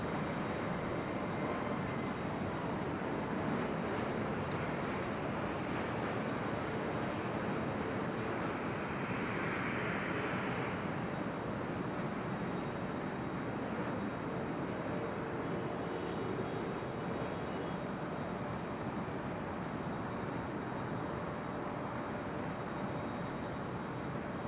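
Jet aircraft at LAX produce a continuous wide rumble heard from a high vantage point, steady and moderately distant, with a brief swell in the middle.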